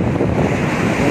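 Strong sea breeze by the South China Sea buffets the microphone with loud, continuous rumbling gusts, mixed with a surf-like wash, close and alone with no talking.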